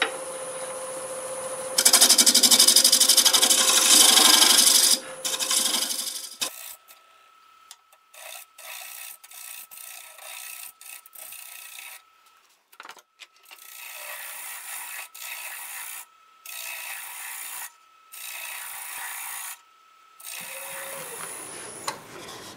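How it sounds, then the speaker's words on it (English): Negative rake scraper smoothing a half end-grain wooden bowl spinning on a lathe, a loud rasping scrape at first, then a series of intermittent scraping passes between short pauses over the lathe's hum. "going to go over it with a negative rake scraper because this is like half end grain"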